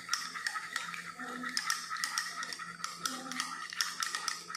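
A single egg beaten in a bowl with a utensil, quick repeated clicking taps against the sides in an uneven rhythm, close and moderately quiet with no voices.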